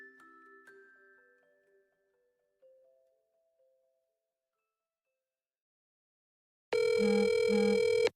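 A telephone rings for an incoming call from an unknown caller, a loud electronic ring pattern that starts abruptly after a near-silent pause and fills the end of the clip, with faint tones fading out before it.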